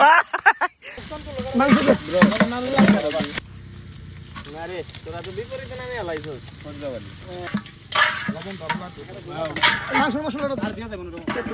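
Onions frying in a pan for khichuri at a riverside picnic, sizzling and stirring heard under frequent loud talk among several people outdoors.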